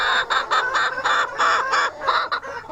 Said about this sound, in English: I believe it's a hen.